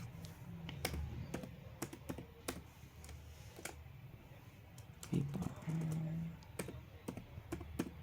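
Keys click sharply and irregularly as a password goes in on a computer keyboard, quiet taps spread across the whole stretch over a low room hum, with a faint voice murmuring in the middle.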